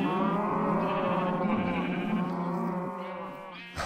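Sheep bleat in a farming video game, a steady, loud run of wavering cries that holds for several seconds and then fades slightly toward the end.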